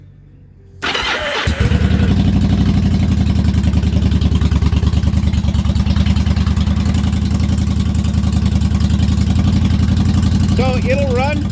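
A 2004 Yamaha V-Star 1100 motorcycle is cold started after a short quiet moment, catching quickly and then settling into a loud, steady, lumpy idle rumble close by.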